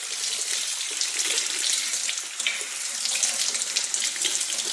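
Tap water runs steadily from a faucet to rinse a foam makeup sponge, a continuous close splashing rush with no speech.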